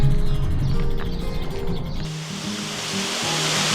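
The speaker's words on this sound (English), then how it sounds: "I ran into a really cool little waterfall." Small waterfall beside a bike trail on the Great Allegheny Passage, a steady broadband rush of falling water that swells louder in the second half, with some rumbling handling noise early on.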